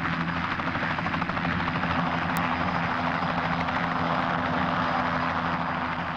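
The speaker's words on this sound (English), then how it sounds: "He owns and flies a helicopter." A helicopter in flight gives a loud, steady engine and rotor drone, continuous and fairly close, with no voices over it.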